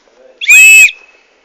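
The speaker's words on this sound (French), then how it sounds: "Alors on a aussi un sifflet. Alors celui-là il est encore plus puissant que celui sur la pochette." A Bear Grylls survival kit whistle blown once, a loud, shrill, piercing blast lasting under half a second, close to the mic, with a faint tone trailing off afterward.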